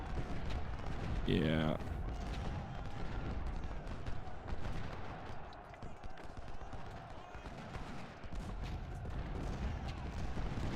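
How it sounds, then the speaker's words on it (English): Artillery and infantry volleys crack in the Civil War strategy game Ultimate General: Civil War as a dense, rolling barrage of booms and rattling shots, with a rising synthetic tone near the start and a brief spoken word. "We're gonna get enemy infantry here firing into them pretty good here. We've also got enemy artillery firing into them."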